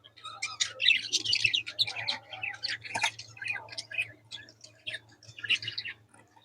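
Budgerigars chirp and chatter in quick, bright warbling bursts, close by, with a low steady hum underneath and a soft whispery voice at times.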